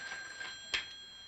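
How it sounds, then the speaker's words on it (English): A telephone rings in a home, a steady electronic ring with a short sharp click partway through, moderately loud and heard alone. "That's our phone."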